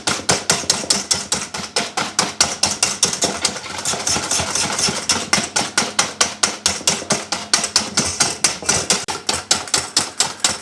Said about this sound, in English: we need to give this a really good whisk until it starts to turn nice and pale